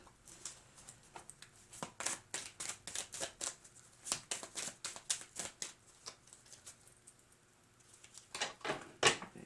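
Tarot cards are shuffled in quick rapid bursts of riffling and flicking, a pause midway, then another flurry, close and crisp.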